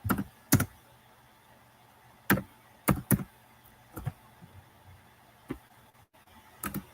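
Sparse, irregular clicks of keys on a computer keyboard, a few at a time with short pauses between them, close and quiet in a still room.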